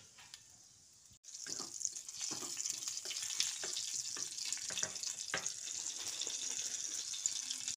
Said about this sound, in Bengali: ফোড়নটা কয়েক সেকেন্ড ভাজার পর